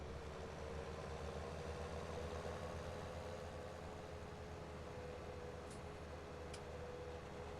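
Tractor engine idling in Farming Simulator 19, a faint steady low hum with a soft ticking texture, unchanging and distant-sounding, no talk over it.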